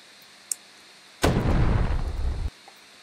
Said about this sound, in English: Explosions are so useful.